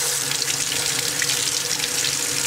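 Warm water pours steadily from a tap into a sink, a continuous close splashing hiss with no talk, drawn for washing up in a hobby modeling and painting workspace.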